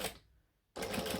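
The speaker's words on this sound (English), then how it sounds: "I'm going to stitch up to that top edge and back stitch." A sewing machine back-stitches the top edge of a pen holder section: a short whirring burst of stitching, a brief pause, then a second burst.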